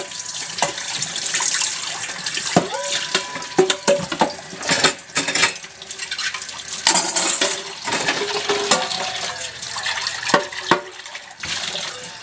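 Hot water runs steadily from a kitchen tap while dishes are rinsed at the sink, with clinks and clatters of plates and pans scattered over the constant splashing, close and fairly loud throughout.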